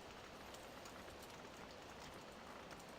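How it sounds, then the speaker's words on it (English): Steady rain falls on a farm map in Farming Simulator 17, a soft, even hiss of drops that stays faint and constant throughout with no voices. "comes the rain."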